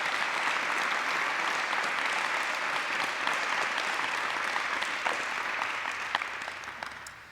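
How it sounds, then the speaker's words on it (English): An audience at an airport event gives a sustained round of applause, even crowded clapping that holds steady and then thins and fades toward the end. "I think a small round of applause for Mark."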